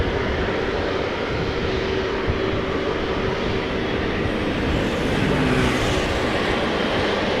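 Jet engines of an Air Malta airliner at Amsterdam Schiphol produce a sustained, even roar with a faint tonal whine, loud and constant throughout, heard alone without voices.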